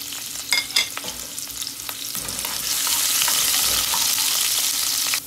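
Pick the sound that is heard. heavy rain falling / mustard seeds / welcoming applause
mustard seeds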